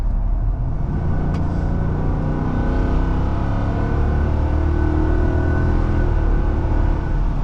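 A 2025 heavy-duty pickup truck with a 6.4 Hemi gas engine accelerates through its gears, a loud, steady engine drone whose pitch climbs smoothly throughout.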